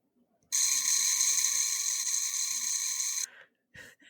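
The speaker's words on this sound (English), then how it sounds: "they have this thing called electronic baitfish sounds" A small electronic fishing lure playing baitfish sounds emits a continuous buzzy, rattling chirp for about three seconds, close and fairly loud, then cuts off, followed by a faint click.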